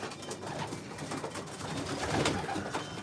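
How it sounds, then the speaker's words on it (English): Young racing pigeons coo softly in a loft, several birds overlapping in low murmuring calls against a steady rustling background, with no talking. "But here's the young birds."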